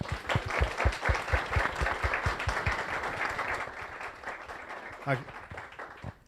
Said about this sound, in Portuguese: Pedir uma salva de palmas aí para o pessoal.